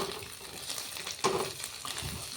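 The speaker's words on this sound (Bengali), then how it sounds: "এখানে ডিম ভাজছি ডিমের অমলেট করে ঝাল করব বললাম" Eggs frying in a pan for a spicy omelette, a close, continuous crackling sizzle with a brief louder spatter midway and faint stirring.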